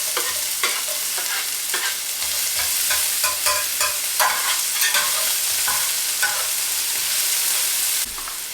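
Finely chopped onion frying in a pan for a vegan Japanese-style curry, a constant close sizzle broken by regular scraping stirs, with no talking.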